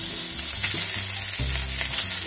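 In a deep, round-bottomed wok, Shanghai-style pork chops hiss and crackle steadily and loudly at close range, a few sharper pops rising above the sizzle while gentle music plays beneath.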